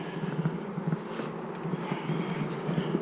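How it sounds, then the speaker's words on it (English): Honey bees being moved around by hand at an open hive, a dense steady buzzing swarm close by with small fluctuations, no voices. "I'm moving these bees around"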